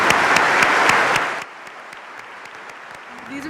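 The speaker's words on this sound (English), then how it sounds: "Give them a round of applause." Audience applause at an inspirational gathering, a dense burst of clapping that carries for over a second before dropping off to a quiet room, with faint sounds near the end.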